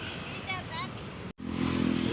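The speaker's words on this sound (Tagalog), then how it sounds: "O konti lang ang motor dito." Motorcycle engines hum and drone steadily on a busy city bridge in Manila under people talking, the traffic rising louder after a brief cut.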